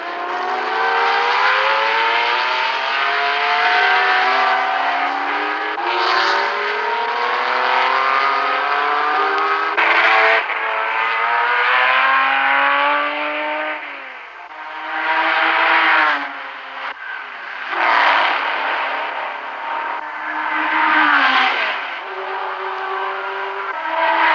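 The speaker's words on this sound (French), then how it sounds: "En GT, duel également entre la Chevrolet Corvette de Greenwood et la Ferrari Daytona de Rouveyran" Race cars at the 1972 Le Mans 24 Hours, including GT machines such as a Chevrolet Corvette and a Ferrari Daytona, roaring past one after another, their engine notes rising and sweeping in pitch as each car approaches and fades, loud and continuous.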